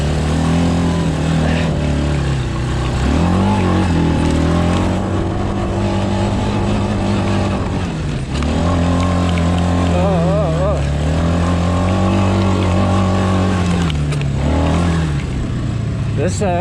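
A KAYO AU200 ATV engine runs with a steady drone that rises and falls as it revs, loud and close throughout.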